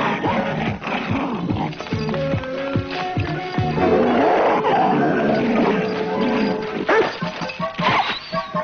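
Dog barking and growling in an animated scene, rough snarling barks repeating in bursts over dramatic music, loud and close.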